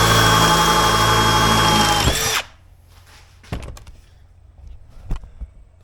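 A power drill whines loudly and steadily through a hole in a holiday home project, then stops abruptly, leaving a quiet background broken by a few sharp knocks and clunks.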